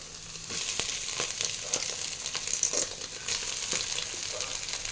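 Onions and tomatoes fry in a pan for fried rice, giving a loud, steady close sizzle with a few light clicks of stirring and no voices.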